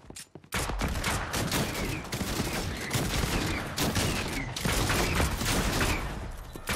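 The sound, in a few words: gunfire through a window in the video game Fortnite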